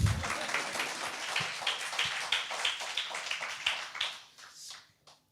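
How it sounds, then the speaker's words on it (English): Audience applause at a NYC tech talk on robotics startups, a moderate patter of many hands clapping that thins out and fades to near silence by the end. "Yeah, you can applaud."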